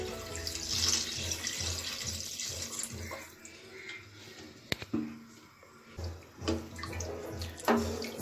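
Water pours into a pan of horse gram soup in a continuous splashing stream, swelling and easing with a few sharp knocks of the vessel, no one talking.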